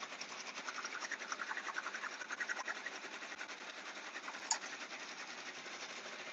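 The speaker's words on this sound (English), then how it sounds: "take it over to my sewing machine and just do 2 straight stitches" A sewing machine runs straight stitches in one steady, continuous stretch with a fast, even mechanical chatter. It is close but quiet, with a single small click partway through.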